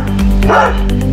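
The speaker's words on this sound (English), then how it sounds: "Powerful and loudest bark. Let's hear it first and we'll decide accordingly." A Dogo Argentino barks loudly and close up, a deep booming woof in a short burst over a steady low hum.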